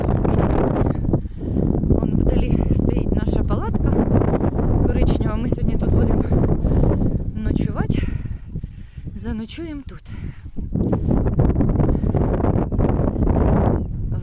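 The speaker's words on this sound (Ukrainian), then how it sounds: "Сьогодні вітряно." Strong gusts of wind buffet the microphone with loud low rumbling on a Dnipro river beach, while a person talks briefly over it.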